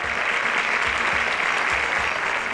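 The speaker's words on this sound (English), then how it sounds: "Please give him a round of applause." A crowd claps steadily and continuously for a presenter at a semifinal, a dense wash of applause filling the whole stretch with no pauses.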